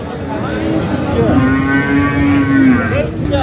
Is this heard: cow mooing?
yes